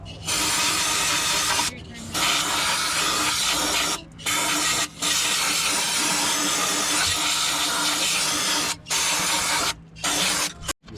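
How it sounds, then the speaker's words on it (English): Brake cleaner aerosol sprays onto the rear axle parts of a Jeep JKU Rubicon in long, loud, close hissing bursts, broken by several short pauses between sprays. "Now you can spray it out real good. Here's your brake cleaner."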